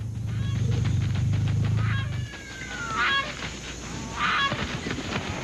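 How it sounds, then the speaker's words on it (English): African crowned cranes and flamingos calling in a crater wildlife soundscape, with a low droning hum for the first two seconds, then honking, trumpeting calls rising in two bursts. "African crowned cranes are joined by thousands of migrating flamingos."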